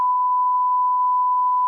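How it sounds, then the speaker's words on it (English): A steady electronic-sounding car horn blares continuously at close range during a road incident on the Gold Coast, one unbroken tone lasting the whole moment with no voices. "That was a lot of beeping."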